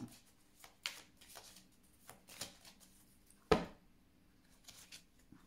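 A deck of tarot cards being cut and handled during a reading, soft papery slides and taps with one sharper snap near the middle, quiet and close with no talking.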